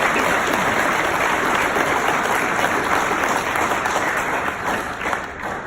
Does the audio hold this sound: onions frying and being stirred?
no